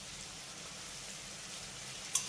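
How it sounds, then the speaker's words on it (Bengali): Diced potatoes with a little salt and turmeric fry over a medium-low flame in a pan, giving a steady soft sizzle throughout, with a brief sharp clink near the end. "এবার আলুটাকে মিডিয়াম লো ফ্লেমে একটু সময় নিয়ে কিন্তু লাল লাল করে ভেজে নিতে হবে"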